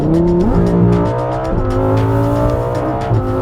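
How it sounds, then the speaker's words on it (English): A 2018 Lamborghini Huracan Performante Spyder's V10 engine roars loudly and up close, climbing through revs with sharp gear-change drops and re-rising pitch, steady and unbroken throughout. "we're actually driving this Lambo"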